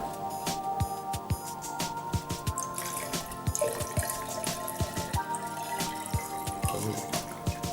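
Water is poured from above into a pot holding a money plant, making splashing drips and trickles that continue irregularly and fairly close throughout, with no voices.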